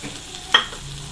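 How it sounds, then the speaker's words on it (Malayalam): Chopped ginger for papaya pulissery frying in a pan, a soft steady sizzle with one sharp clink of a utensil in the middle, no talk. "ഇനി ഇതിനകത്തേക്ക് നമുക്ക് അരിഞ്ഞു വെച്ചിരിക്കുന്ന ഇഞ്ചി ഇട്ട് കൊടുക്കാം"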